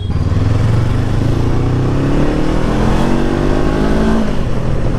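A Honda NX500 motorcycle engine accelerating in second gear, a loud, close, continuous drone whose pitch climbs steadily as it revs.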